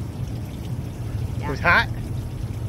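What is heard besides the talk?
hot spring water pouring out of a hillside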